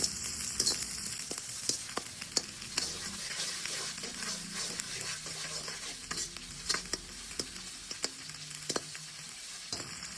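Green chillies fry in hot oil for chilli chicken, a continuous bright sizzle close up with repeated sharp stirring scrapes and clinks of a ladle against the pan.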